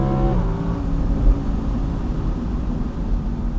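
An Audi R8 V10 Plus Spyder's V10 engine drones steadily at close range, a sustained low mechanical roar that briefly shifts pitch early on as it revs, with no voices.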